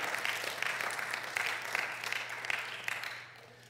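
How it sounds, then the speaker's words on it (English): Church congregation clapping hands together in a sustained round of applause, a dense steady patter of many claps with a low hum underneath, tapering off at the end. "let's give him a hand clap."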